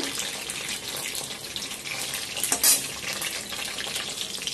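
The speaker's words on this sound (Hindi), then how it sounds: "देखिए बैगन को मैं फ्राई कर ले रही हूँ अच्छे से।" Eggplant (baingan) frying in oil in a pan, a steady hissing sizzle with a brief louder crackle midway, close and continuous.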